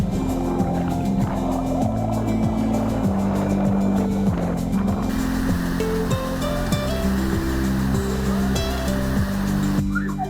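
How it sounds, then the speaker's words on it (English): Kawasan Falls, a cascading waterfall in Cebu, pours with a steady broad roar beneath loud music playing throughout. "So this is the main Khawasan Falls."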